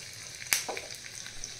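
A quick burst of sizzling as curry leaves drop into hot oil, with a soft crackle continuing after the initial splash.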